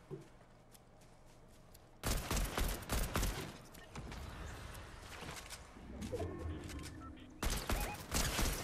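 Video game gunfire rattles in dense bursts of rapid shots, loud and close, broken by a quieter stretch and returning in heavy volleys toward the end.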